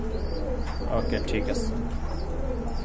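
Pigeons coo softly on a pigeon farm, low murmuring calls close by and steady throughout, while someone talks briefly over them.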